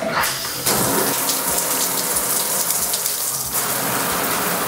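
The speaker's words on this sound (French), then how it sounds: "l'eau coule ici en haut" Steady rushing spray of water from a wall-mounted shower attachment, a continuous broadband hiss that shifts slightly in level partway through, with no voices.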